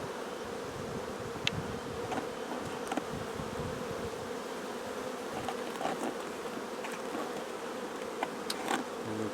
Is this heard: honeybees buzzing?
yes